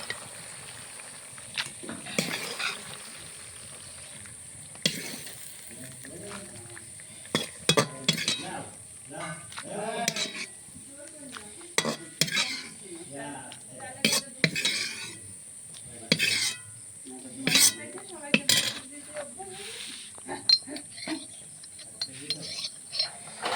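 Utensils clink and scrape against a pot while bitter gourd curry is lifted out and served, irregular close metallic taps and stirring scrapes spread throughout, with a faint sizzle underneath and occasional voices.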